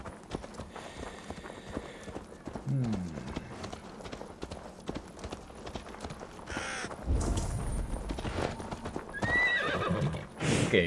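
Hooves clip-clop at a gallop while a horse neighs and whinnies in Assassin's Creed Valhalla, with crows cawing and brief game-like effects around it.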